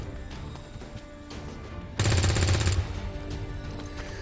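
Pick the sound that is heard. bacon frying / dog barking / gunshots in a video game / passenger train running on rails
gunshots in a video game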